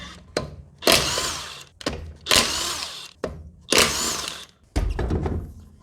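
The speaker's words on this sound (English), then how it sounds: "Then with a 17mm socket undo the wheel bolts." A 17mm socket on a power tool undoes the wheel bolts of a 2013 Volkswagen Up, making four loud, close bursts of whirring and rattling, separated by short pauses and thunks.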